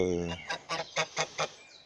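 Geese honk in a vegetable garden, a run of four or five short nasal calls in steady rhythm after a brief low voiced sound, fairly close and moderately loud.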